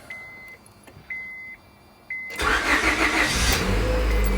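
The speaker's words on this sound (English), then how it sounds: "Let's crank this bad boy." A 2001–2005 Honda Civic gives three warning chimes, then its engine cranks and catches, settling into a loud, steady idle nearby after a valve cover gasket and camshaft position sensor repair.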